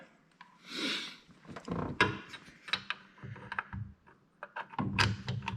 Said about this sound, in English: So I'll take this bolt off.